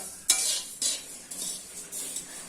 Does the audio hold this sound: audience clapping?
no